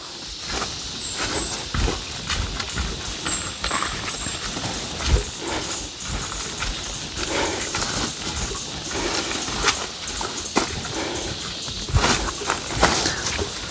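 Horse hooves clip-clop steadily on a rough mountain trail, a continuous run of moderately close, uneven steps with outdoor ambience and no talk.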